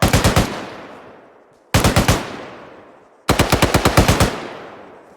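Loud rifle bursts from squad shooting training on a long-range range, firing at targets several hundred meters out, come in three close clusters of rapid shots, each cluster ringing out and decaying before the next.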